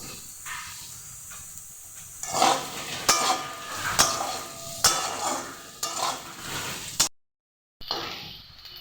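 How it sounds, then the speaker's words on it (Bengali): Potato pieces fry over high flame in a pan, a soft sizzling hiss broken by repeated scraping stirs at roughly one-second intervals, close and clear, with a short silent gap near the end. "আলুগুলোকে হাই ফ্লেমে লাল লাল করে ভেজে নেব"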